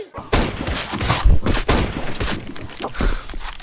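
Rapid bursts of gunfire from the video game CS:GO, loud and close, with overlapping shots and thuds continuing throughout.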